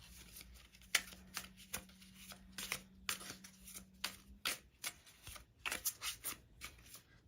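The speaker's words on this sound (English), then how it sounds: "So let's grab you a couple of cards, shall we?" Close, soft handling of a Forest of Enchantment tarot deck during an ASMR reading: crisp card slides, taps and shuffling flicks in an irregular rhythm, with a faint steady hum beneath.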